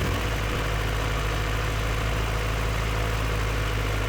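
A 1994 Honda Civic with a naturally aspirated B20 engine tuned to about 220 hp idles steadily and close by, a constant low rumble and hum with no talking.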